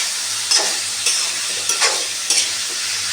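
Turmeric powder, salt, onion, tomato and green chillies frying in oil for Chettinad pepper chicken, a steady close sizzle with periodic stirring scrapes roughly every half second, no talking.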